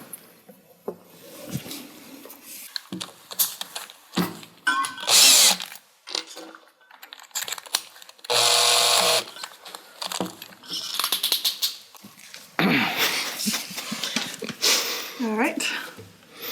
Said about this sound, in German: Now we take the clock off the wall and drill the holes bigger with the 5 mm drill bit.